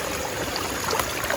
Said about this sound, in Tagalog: Ang ganda na ng daloy, ng batis.